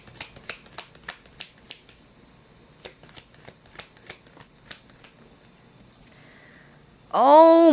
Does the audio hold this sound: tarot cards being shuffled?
yes